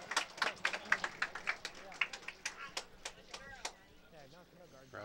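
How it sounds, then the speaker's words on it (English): Audience at a curling final clapping after a great shot, a faint scattered patter of hand claps that thins out toward the end. "Round of applause."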